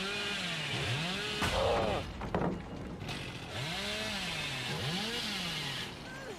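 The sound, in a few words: chainsaw revving in the video game Dead by Daylight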